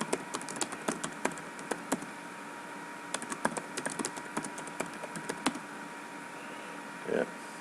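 Keystrokes on a computer keyboard entering a password during a Windows server setup, coming in irregular bursts of sharp clicks with short pauses between them, fairly close and moderately quiet.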